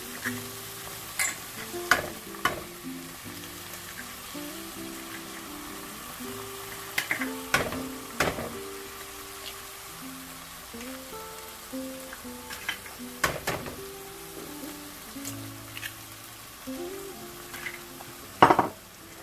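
Eggs cook in a pan of masala for egg bhurji with a soft, continuous sizzle. A spatula scrapes and clicks against the pan at irregular intervals, with a sharper knock near the end.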